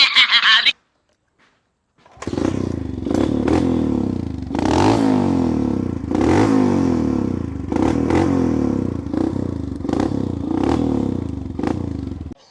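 A Hero Impulse dirt bike is kick-started, and its single-cylinder engine catches and runs with a loud, close, uneven putter and repeated blips of revving that last for about ten seconds.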